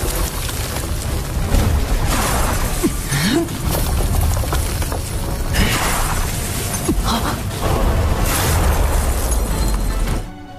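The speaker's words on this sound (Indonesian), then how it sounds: "barir emas Yuan pun berhasil dihancurkan" A dense, roaring burst of crashing and shattering noise rumbles on for several seconds, loud and full, swelling in waves before cutting off.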